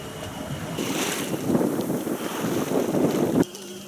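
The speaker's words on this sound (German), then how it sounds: "Herrlich, leider abflauender Wind." Steady wind rushes past a sailboat cruising among the Croatian islands, a broad blustery roar with water wash that holds for over three seconds before abruptly dropping to a quieter hiss.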